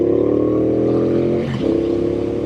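A Triumph Speedmaster motorcycle accelerating while the rider short shifts, its engine droning loudly and steadily close by, then dipping briefly at a gear change before pulling on again.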